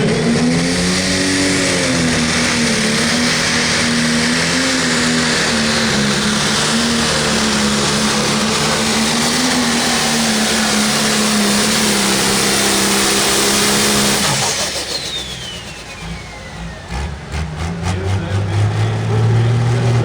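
A John Deere 8370R pulling tractor's engine roars steadily at high revs for a long stretch down a pull track, then dips and surges again as it pulls away, loud and close.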